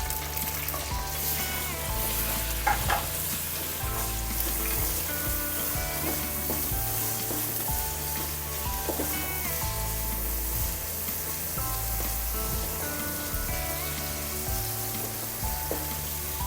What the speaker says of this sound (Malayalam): ഇതിനകത്ത് രണ്ട് ഇടത്തരം തക്കാളി അരിഞ്ഞതേ അത് ഇട്ട് കൊടുക്കാം